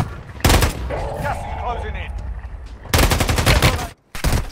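Loud bursts of automatic fire from the SVA 545 rifle in the Warzone Mobile game, two rapid-fire strings of shots separated by quieter game ambience, ending with a brief silence and one more short burst.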